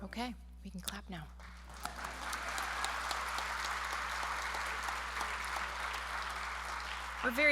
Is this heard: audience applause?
yes